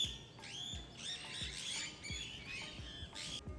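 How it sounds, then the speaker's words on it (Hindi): Parrots squawking in a tree near a Himachali village, harsh repeated calls and chirps over a low rumbling background, moderately distant. "देखो तोते।"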